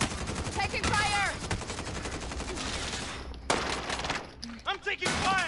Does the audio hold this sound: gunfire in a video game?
yes